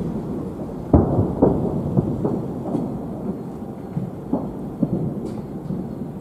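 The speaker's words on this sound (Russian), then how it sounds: "Долго, очень долго, красивый салют." Repeated deep booms of a Victory Day fireworks salute in Moscow rumble from a distance, irregular thuds rolling one after another.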